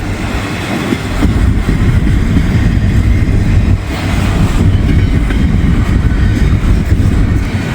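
Intermodal freight train cars rolling past close by, a loud, steady rumble and rattle of wheels on rails that carries on without a break, with no voices.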